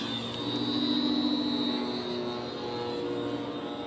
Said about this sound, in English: powered with the new Dualsky CRS 3500 Mk3, paired with the Contra rotating Falcon propellers.